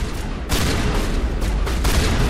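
Shotgun blasts in the sci-fi shooter Mass Effect, two heavy booming shots about a second apart over a dense, noisy combat backdrop.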